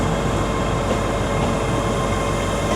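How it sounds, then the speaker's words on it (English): A ScotRail Class 385 electric train, unit 385105, on a terminating service from Falkirk Grahamstone at Glasgow Queen Street station gives a loud, steady rumble and whine that fills the whole moment close by, with no voices. "this is a terminating ScotRail service from Falkirk Grahamstone"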